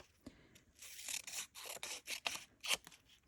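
Scissors snipping through paper prompt strips, a quick run of short crisp cuts in uneven rhythm, quiet and close with no talking.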